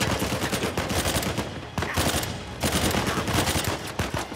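Gunfire in the game Uncharted 4 comes as dense, rapid bursts of shots that crackle continuously, with a brief pause partway through before the firing resumes.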